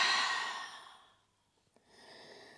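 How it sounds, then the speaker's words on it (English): A deep exhale through an open mouth during a yoga flow, one long close breath that fades out, then a soft catch and the start of a faint breath. "Open up the mouth, exhale."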